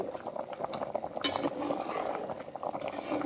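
Mustard fish curry bubbling as it boils in a pot, a steady low simmering gurgle throughout with a brief clink of a utensil partway through.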